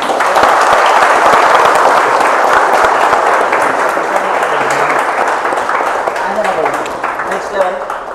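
An audience applauds winners at a Java project competition, a dense, loud, continuous clapping that carries on for several seconds and thins slightly toward the end, with voices mixed in.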